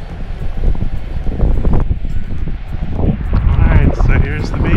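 Strong wind gusts across a Florida beach on the Forgotten Coast near Apalachicola, buffeting the microphone with loud, rough, uneven rumbling that swells and eases.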